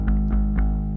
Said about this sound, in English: This is just a bass I played with the pick.